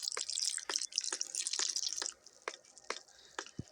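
Bubbling, dripping water in the horror video game Specimen Zero, a run of sharp, irregular liquid plips and drops over a hissing watery background, moderately loud at first and then thinning into sparser drips.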